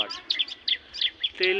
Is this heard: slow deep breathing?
no